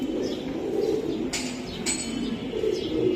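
Racing pigeons coo in low, rolling murmurs, a steady close-up burble from several birds with a couple of brief sharper sounds in between.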